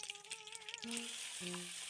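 Cumin, mustard seeds and curry leaves hit hot oil in a kadhai for a Marathi vatana rassa tempering. A soft, faint start with a few tonal sounds gives way, just under a second in, to a steady hiss of sizzling.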